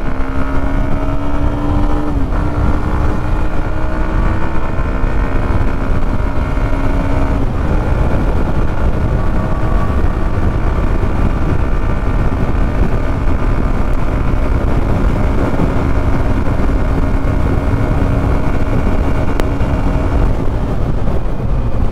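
A 2024 Hero Xtreme 125R motorcycle engine drones steadily while riding, its hum mixed with heavy wind rush across the microphone, loud and continuous with no talk.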